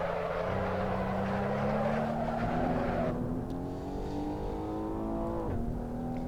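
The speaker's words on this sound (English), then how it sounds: "So you can't hear that engine very nicely from inside." Maserati Levante S in the Assetto Corsa racing game, engine heard from the cabin as a muffled, steady drone that climbs slowly in pitch, then briefly dips as a gear changes and keeps rising.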